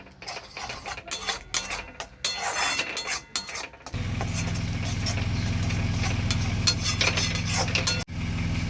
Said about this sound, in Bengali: এটা একটু কন্টিনিউ নাড়তে হবে যেন তলায় লেগে না যায়।